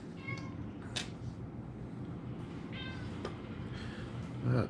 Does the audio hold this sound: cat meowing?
yes